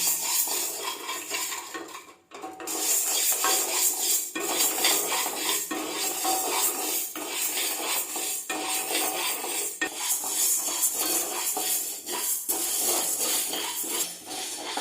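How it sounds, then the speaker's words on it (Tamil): Black urad dal and basmati rice being dry-roasted in a pan, a steady close scrape and clink of a metal spoon against the pan with faint hiss running throughout, no voices. "இது கொஞ்சம் வறுத்துக்கலாம், வாசனை வர வரைக்கும் இதை வறுத்துக்கலாம்."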